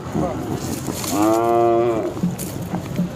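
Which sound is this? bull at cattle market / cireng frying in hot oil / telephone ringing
bull at cattle market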